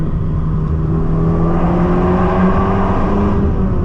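An Abarth car's engine revs and hums loudly and steadily from inside the cabin, its pitch rising and falling slightly as the driver works down through the gears.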